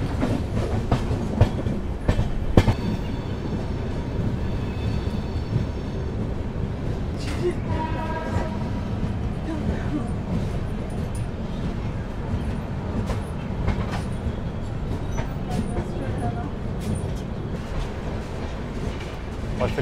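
The Azimabad Express runs on rails near Agra, a steady rumbling roar of the train in motion with rhythmic clickety-clack of wheels over rail joints and occasional metallic squeals.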